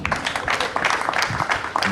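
An audience claps at the handover of the renovated Lagos State Police Command K9 Center, a continuous ragged patter of many hands that stays steady and fairly loud throughout, with voices mixed in.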